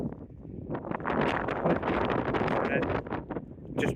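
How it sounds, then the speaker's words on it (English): Gusty wind buffets the microphone at a mountain viewpoint in Torres del Paine, loud rumbling bursts rising and falling over the whole stretch. "Hopefully you can hear me over the wind"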